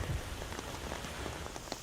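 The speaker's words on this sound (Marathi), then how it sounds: "इथे सध्या मुसळधार पाऊस सुरू आहे" Heavy rain falls at Marine Drive in Mumbai, a dense, steady hiss and patter with scattered drop impacts and no voices.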